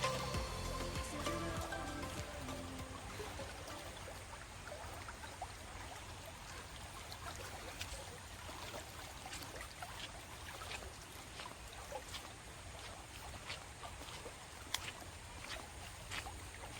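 A swift-flowing river beside rice paddies at Kapas Ijo runs as a steady, broadband rushing wash of water throughout, fairly faint and continuous with no talk.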